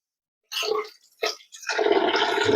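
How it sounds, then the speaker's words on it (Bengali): Leafy greens are sloshed and rinsed in bowls of water in a kitchen, giving two short splashing bursts and then a longer continuous wash, up close. "এই যে দুটো বাটি করে শাকটাকে ভালো করে শাকটাকে ধুয়ে নিতে হবে।"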